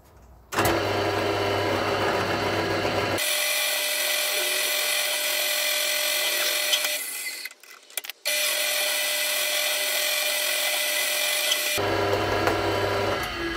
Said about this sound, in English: we've got the screws marked and I can just drill through now